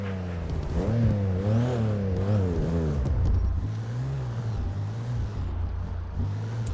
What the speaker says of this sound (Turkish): Egzozdan bir rahatsızlık oluyor ama yapacak bir şey yok abi. BMW bu yani.